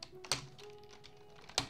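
A couple of sharp, close clicks and taps from a new computer keyboard with a faulty space bar, sounded sparsely and quietly, with no talking.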